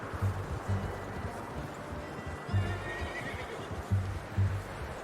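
A horse neighs and whinnies in the Red Dead Redemption II video game, several low snorting whinnies in short repeated bursts, fairly close, over soft ambient rustle and a faint hoofbeat clip-clop.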